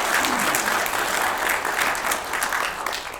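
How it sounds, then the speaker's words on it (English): A lecture audience breaks into applause for Sickles, a full, sustained burst of many people clapping together that tapers slightly at the end. "Give Sickles a round of applause."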